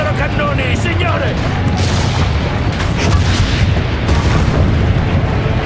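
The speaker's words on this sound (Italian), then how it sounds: "Caricate il cannone. Distruggete i loro cannoni, signore!" Deep booming cannon blasts roll out one after another over a loud, rumbling battle din in the video game Assassin's Creed: Brotherhood.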